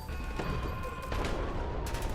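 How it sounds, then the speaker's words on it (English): Gunfire rings out in a video game, a few sharp, fairly faint shots and bursts over a murky background without speech. "gunshots, screams, and maniacal laughter fill my ears once more"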